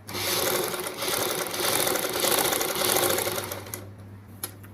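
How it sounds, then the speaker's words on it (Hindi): Sewing machine running steadily while stitching fabric alongside a cord for choli piping, a dense continuous mechanical whir with a low hum, close and loud, easing off near the end with a brief click. "ये हमने डोरी के साथ साथ सिलाई लगानी है।"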